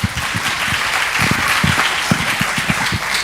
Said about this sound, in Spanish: Y su primera diana, un aplauso,